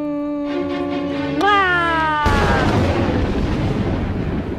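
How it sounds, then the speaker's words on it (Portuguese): A tonal, wavering sound bends upward, then a sudden explosion sound effect erupts into a loud, rumbling roar that holds and slowly thins out. "Porque o Carlinhos capricha na explosão."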